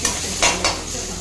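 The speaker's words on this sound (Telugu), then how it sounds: "పచ్చివాసం లేకుండా జస్ట్ కొంచెం ఫ్రై" Hot oil sizzles steadily in a pan while something is stirred, with two brief louder scraping bursts; no voices.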